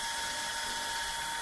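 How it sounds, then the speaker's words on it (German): A grinder works on a knife bolster beside a deer antler handle, giving a steady, harsh, high-pitched whine with a grinding rasp that runs unbroken and close, with no talking. "jetzt schleifen wir das Plattel zu"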